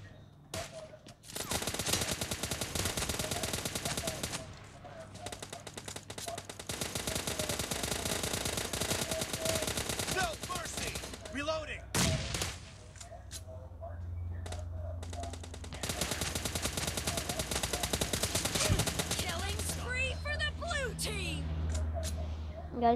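Gunfire in the mobile shooter Sniper Champions: long stretches of rapid automatic fire with a few isolated single shots between bursts, loud and sustained, with someone talking over parts of it.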